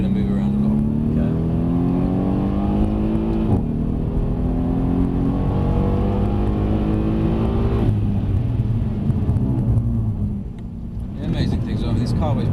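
A Mercedes-Benz C63 S driven hard on a track, its engine roaring loud and continuous with rising and falling revs through gear changes and a brief dip near the end, while someone talks over it.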